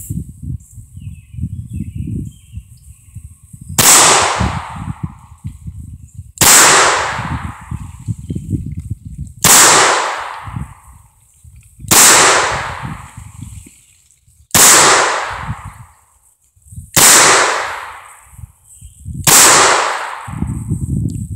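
Reloaded .38 Special revolver rounds with 125 grain bullets fired one at a time, seven sharp, loud shots spaced about two to three seconds apart, each followed by a brief echoing tail.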